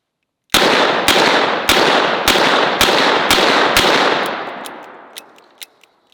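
Gunshots fired at a target glove: seven sharp, loud reports spaced roughly half a second apart, each leaving a long ringing tail, then a few fainter cracks trail off as the echo fades.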